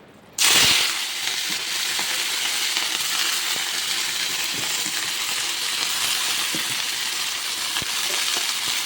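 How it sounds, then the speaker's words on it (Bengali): Dhenki shak fern greens dropped into hot oil, a sudden loud sizzle that settles into a steady, close frying hiss with faint crackles throughout. "এখানে তেল গরম করতে দিয়ে তোমাদের সাথে এদিকে কথা বলতেছি তো চলো ভাজিগুলো আগে বসায় দেওয়া যাক"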